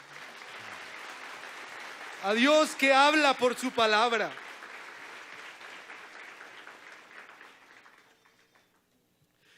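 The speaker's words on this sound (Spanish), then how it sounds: "Dele un aplauso a Dios." Church congregation breaks into a short burst of hearty applause lasting about two seconds, with a preacher speaking before and after it over a quiet room.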